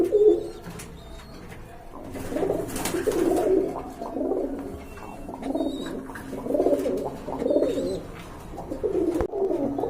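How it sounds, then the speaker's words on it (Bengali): Soft, throaty pigeon coos repeat in a steady rolling rhythm, close by, with faint chirps in the background. "এখানে দেখতে পাচ্ছেন আরেক জোড়া কবুতর আছে নাপতা কবুতর"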